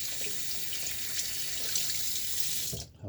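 Tap water runs steadily and close by while a razor is rinsed between shaving passes at a bathroom sink, a continuous hiss that cuts off near the end.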